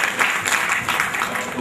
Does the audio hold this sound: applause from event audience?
yes